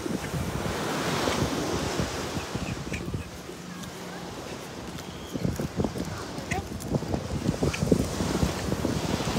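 Waves roll and wash onto a seaside beach amid steady wind buffeting the microphone, with a continuous broadband surf wash and intermittent low thumps throughout.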